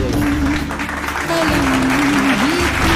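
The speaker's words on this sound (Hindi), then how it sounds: "इसके लिए ऑडियंस ने तो मसनूई तालियों पर काम चलाएंगे" An artificial applause sound effect plays for the audience at a quiz competition. A loud, continuous wash of clapping runs throughout, with a steady wavering tone beneath it.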